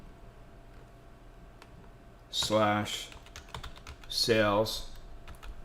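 Light, scattered key clicks from a computer keyboard as a Linux command is typed during a drive sanitization lab, partly under two short bursts of nearby speech.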